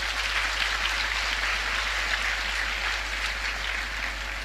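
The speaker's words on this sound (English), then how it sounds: "give her a mighty hand clap" Sustained applause from a church conference audience, a dense steady wash of many hands clapping at an even level throughout with no talk over it.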